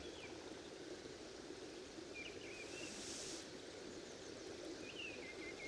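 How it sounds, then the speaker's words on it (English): A small river stream flows at a campsite in a soft, steady wash of water, faint and continuous, with a few distant birds chirping over it. "That's like white noise, the river, little stream."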